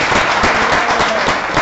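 A church congregation claps together in a steady, dense burst of applause that fills the room from start to end, loud and close, with no voice standing out.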